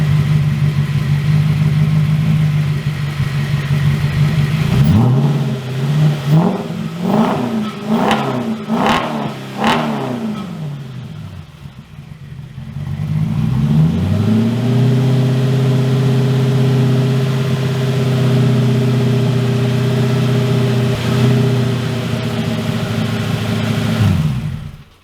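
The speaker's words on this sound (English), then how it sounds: "I'm going to see if I can give it a quick rev before the camera dies." A Porsche Cayman fitted with a V8 swap and a homemade welded exhaust is revved hard in a rapid series of sharp blips, then drops back to a loud, steady idle rumble close by, with no talking.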